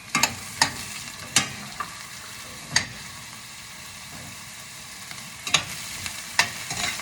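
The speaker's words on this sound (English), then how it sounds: "so our onions are sauteing nicely" Onions and broccoli sautéing in a pan: a constant low sizzle broken by repeated sharp clinks and scrapes of a utensil against the pan.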